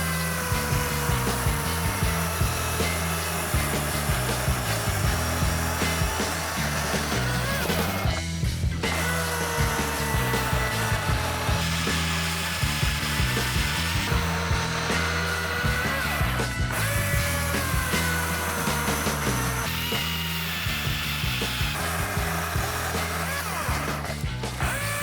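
A steady, loud electric chainsaw drones continuously as it cuts a log, its whine shifting slightly in pitch throughout with no pauses.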